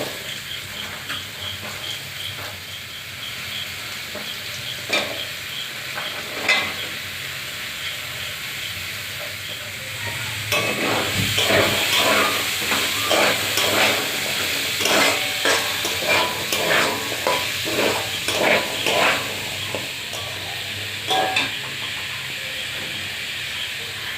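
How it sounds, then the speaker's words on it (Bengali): Potato and carrot frying together in oil give a continuous close hiss and sizzle. The sizzle grows louder partway through, with bursts of crackle and stirring. "এবার এই তেলেতে আমি আলুটা আর গাজরটা একসঙ্গে ভেজে নেব।"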